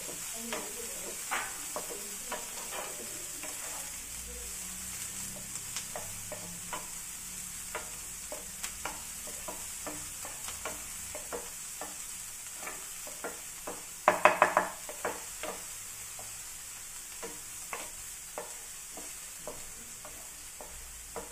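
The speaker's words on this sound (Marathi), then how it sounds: "तर कांदा गोल्डन ब्राऊन होईपर्यंत आपल्याला असं स्टर करत राहायचं आहे" Onions and green chilies fry in a pan while being stirred, with soft continuous sizzling and scattered light scrapes and taps of a utensil, plus a brief cluster of louder clatter midway.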